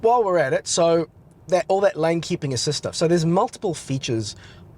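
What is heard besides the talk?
No everyday noise stands out behind the speech.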